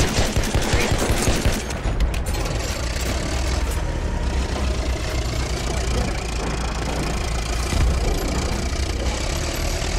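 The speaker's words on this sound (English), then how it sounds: "Machine gun, one of them." Machine gun fire in Battlefield 1 during a Monte Grappa operation: a rapid, loud burst for the first couple of seconds, then a dense, continuous roar of battle noise with an engine-like rumble underneath.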